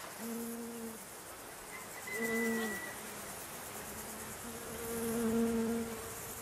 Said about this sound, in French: Aucun pesticide ne vient perturber les abeilles de Ryumonji.